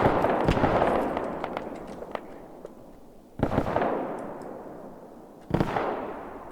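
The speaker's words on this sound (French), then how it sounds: "Oh, ça m'a tiré dessus là." Gunfire in the Roblox shooter Front, heard as three sharp cracks: one near the start over ongoing background noise, then two more isolated shots spaced about two seconds apart, each trailing off into a short echo.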